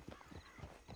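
Horse hooves clip-clop in the Red Dead Online video game, a steady rhythmic series of close, clear hoofbeats with no talking over them.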